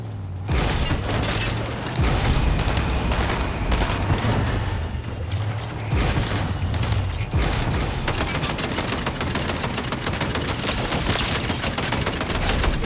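Rapid bursts of automatic gunfire in the video game Fortnite, loud and nearly continuous for the whole stretch with brief gaps, mixed with booms and mechanical clatter, no talk over it.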